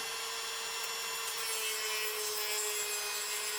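A large cordless Dremel rotary tool slowly grinding material away from the wood of a G&L ASAT guitar body, a steady close whine with a constant high tone and a rough abrasive hiss, no talking.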